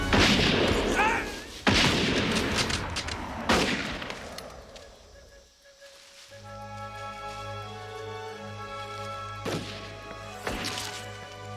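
Rifle volleys in a battle scene from the Spanish-American War era, with several sharp, loud gunshot bursts spread across the clip amid shouting and a sustained musical tone underneath.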